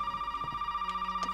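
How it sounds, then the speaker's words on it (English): A telephone rings in a Resident Evil video game with a steady, fast electronic trill at an even pulse, clear and fairly quiet, with faint background game sounds. "Phone! How about that?"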